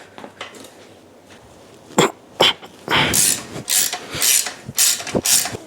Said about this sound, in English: What is this? 15 millimeter ratchet wrench.